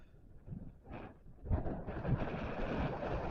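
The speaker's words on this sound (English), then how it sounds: "It is very windy and cold." Gusty wind blows outdoors in a cold park, buffeting the microphone in low rumbling bursts that swell and build into a sustained blustery roar.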